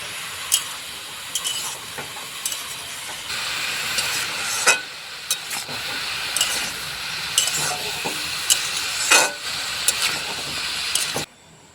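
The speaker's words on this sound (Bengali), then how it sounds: "চাল কুমড়োর সঙ্গে এখন মশলাটাকে মিশিয়ে নেব" Steady scraping and stirring in a pan as a spice paste with red chilli powder is mixed into ash gourd, with a soft sizzle underneath and occasional sharper clacks of the spoon against the metal, close and continuous.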